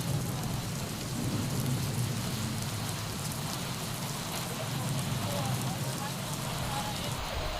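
Heavy monsoon rain in Mumbra hisses continuously, dense, loud and unbroken, with a low rumbling undertone and faint voices buried beneath it.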